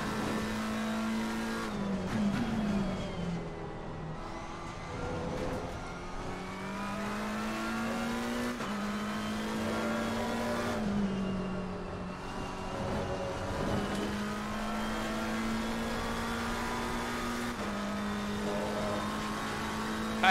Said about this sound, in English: every time I was downshifting, the car would snap out of me, which is typical for the McLaren in slow speed